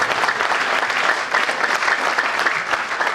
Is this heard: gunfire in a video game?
no